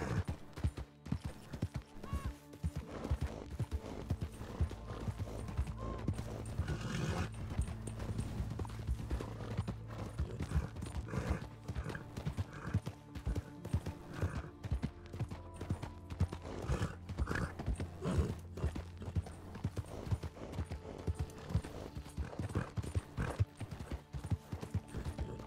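Horse hooves clip-clop steadily in the game Red Dead Redemption (RedM roleplay), with a continuous plodding rhythm and an occasional whinny over faint background noise.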